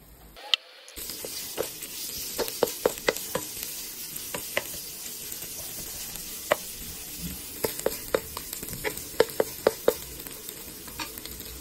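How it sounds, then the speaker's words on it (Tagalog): Lots of tomatoes and other ingredients sauté in a frying pan, probably for a lapu-lapu fish dish. A steady close sizzle carries scattered sharp scrapes and clinks from a utensil stirring against the pan, with no talking. "Tapos gisa tayo ng mga ingredients."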